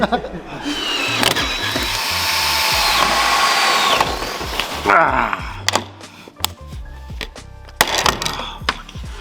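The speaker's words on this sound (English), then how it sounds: "It's a rivet gun." A rivet gun fired in a garage while an Audi RS6 engine and damaged suspension turret are being worked on, giving a sustained loud pneumatic whir followed by several sharp bursts and clacks, with people talking in between.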